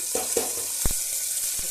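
Chopped onion and green chilies go into hot oil with a quick sizzle, punctuated by a few sharp clatters of the pan and spoon.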